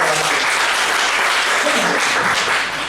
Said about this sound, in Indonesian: Yang semangat bisa kasih tepuk tangan yang luar biasa.